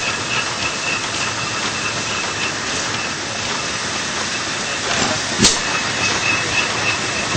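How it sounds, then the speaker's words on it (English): An old gas-engined, water-cooled tractor with a screen cooler runs at an exhibitors' show, giving a loud, steady, hissing mechanical roar with one brief sharp knock near the end. "It's a gas tractor. Has a gas engine on it."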